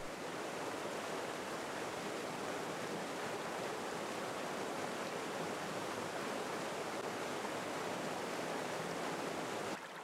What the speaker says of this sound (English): When the rain has saturated the ground, the water begins to run along the surface. Runoff occurs as the rain falls on the slopes.